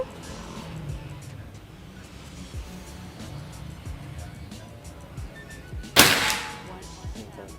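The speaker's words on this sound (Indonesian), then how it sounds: "Lanjut tembakan yang keenam." A single sharp pop of a Bocap Escobar PCP air rifle shot during a long-range accuracy test rings out near the end, standing out against steady outdoor background noise.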